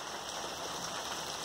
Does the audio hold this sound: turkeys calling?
no